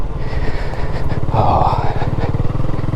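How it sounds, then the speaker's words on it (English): Honda CB250RS motorcycle engine pulling steadily while riding along a green lane near Crundale, a close, continuous rumble with a throaty pulse and wind noise, no talk over it. "Let's let the engine brake and do the work down here"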